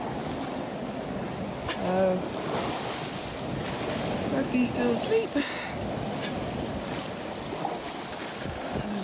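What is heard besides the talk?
choppy ocean waves around a sailboat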